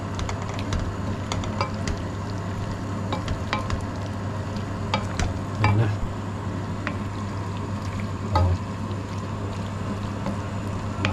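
Tomato sauce for tortellini is stirred in a cooking pan, giving a continuous bubbling sizzle with scattered scraping clicks of the utensil against the pan throughout.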